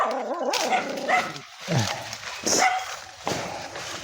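Dogs bark and yip close by in short bursts, mixed with nearby talking and some whining.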